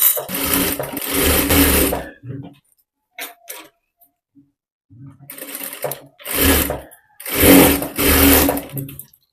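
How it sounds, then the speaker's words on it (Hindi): Sewing machine stitching a blouse sleeve in loud, close bursts of rapid mechanical whirring, several runs separated by short pauses, with faint handling sounds between. "यहाँ पे मैं आस्तीन में डबल सिलाई लगा रही हूँ।"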